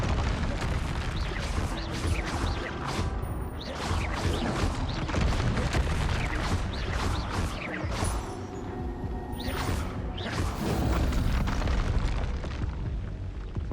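Confringo fire spells in the Hogwarts Legacy video game go off as constant, dense booming blasts with crackling bursts, loud and layered throughout, with no talking.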